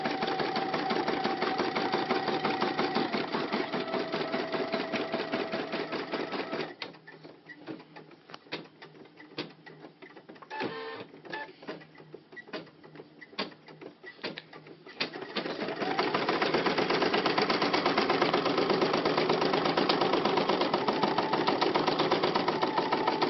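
A Brother PE770 embroidery machine stitches an applique outline on a shirt, a rapid mechanical whirring with fast needle clatter that drops to sparse, slower ticking partway through before resuming at full, steady speed.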